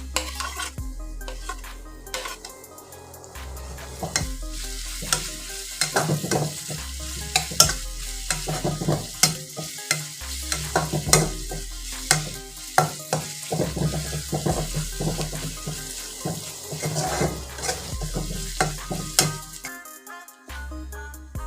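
Loud sizzling and frying with repeated scraping and clattering of a spoon stirring ginger-garlic paste in a metal pan, steady and close, with no voices.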